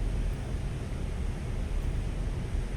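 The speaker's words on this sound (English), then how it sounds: "So you're kind of reliant on the sound of the engine." A fishing boat engine in the Fishing: North Atlantic video game produces a steady, low, rumbling drone with a broad hiss on top. It runs evenly throughout without any voices.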